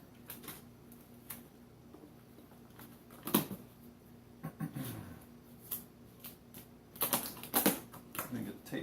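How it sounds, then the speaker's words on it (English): Packing tape is pulled from the roll to seal a box holding a Measuregraph 261 fabric measuring machine: several short, close, rasping bursts with handling clicks between them, while a voice talks nearby. "go ahead and tape them up"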